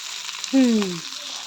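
Fish frying in a pan, a steady close hiss of sizzling oil with a brief falling tonal squeal partway through.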